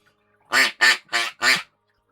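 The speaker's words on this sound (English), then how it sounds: "that's a duck call" Four quick, evenly spaced quacks blown on a handheld duck call used as a prop at a tabletop Dungeons & Dragons session, loud and close, with silence around them.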